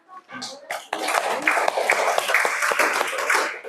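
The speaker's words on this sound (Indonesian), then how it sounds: "Tepuk tangan buat kita semua." Classroom applause from a group of students and their teacher at the end of a school day: a burst of dense clapping that starts abruptly and stays loud and steady, with voices mixed in.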